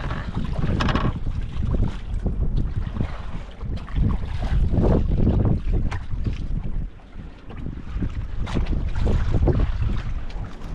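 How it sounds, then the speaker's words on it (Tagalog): Strong wind roars and buffets the microphone nonstop, with a gusty rumble and what sounds like water and a boat moving beneath it. "Ayan o, lakas pa ng hangin idol."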